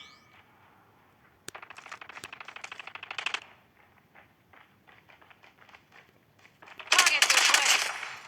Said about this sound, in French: Ben, on va essayer de faire des kills avec la première arme et pas avec la seconde